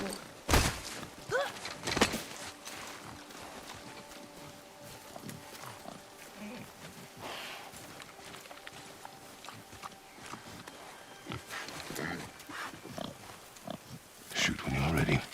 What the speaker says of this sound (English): I knew it was a boar.